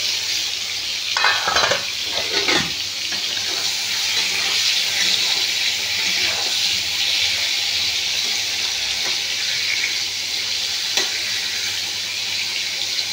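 Slices of pointed gourd (potol) fry in a pan with a continuous close sizzle, broken by a few sharp clatters of stirring near the start and once more later.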